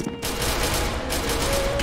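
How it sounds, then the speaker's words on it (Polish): A loud, brief burst of shotgun fire in a video game, dense and close, cutting in sharply after a short gap. "bo strzela z pompy akurat"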